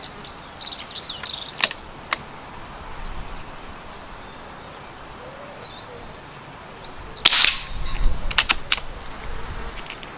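FX Biathlon airgun firing a string of shots outdoors: a few sharp isolated cracks early, then a tight cluster of snappy reports near the end, moderately close with quiet ambience between.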